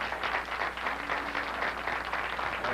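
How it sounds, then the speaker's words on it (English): Audience applause for police officers during a comedy show, a steady wash of many hands clapping at moderate volume, continuous for a few seconds. "They deserve a nice round of applause."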